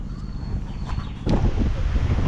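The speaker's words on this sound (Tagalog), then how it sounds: "Lakas ng hangin, no?" Strong cold wind gusting off a nearby river, a steady broadband rush that swells louder partway through and roars against the microphone, with no voices.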